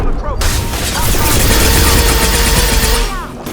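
Sustained gunfire in a Mass Effect battle against Krogan, a dense loud fusillade of rapid shots and booms from start to finish, with brief game voices at the edges.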